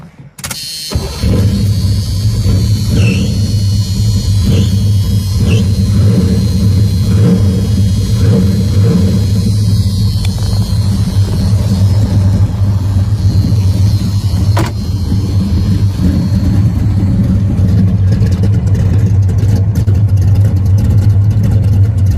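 A muscle car's engine fires up at the start and then idles steadily through its factory exhaust mufflers, a loud, continuous low rumble that fills the whole stretch with only small variations.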